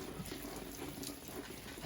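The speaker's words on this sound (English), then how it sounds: "This is how I water my plants." Succulent plants being watered outdoors, a steady, even rush of running water that flows without a break, fairly quiet and close, with no voices.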